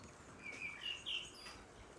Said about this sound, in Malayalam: ഏതൊക്കെയോ കിളികളുടെ ഒച്ചയൊക്കെ നമുക്ക് കേൾക്കുന്നുണ്ട്